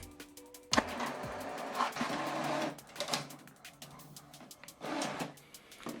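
A printer runs through a double-sided print job, giving a burst of mechanical whirring and feed noise with a sharp clack near the start, then uneven pulses of paper handling that rise and fall.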